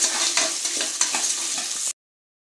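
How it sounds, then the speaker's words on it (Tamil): Cowpeas (thattai payaru) dry-roasting in a pan, a steady dense sizzle and rattle with scraping stirs throughout, close and loud, ending abruptly. "இது நல்லா வறுக்கிறோம். தட்டைப்பயிறு"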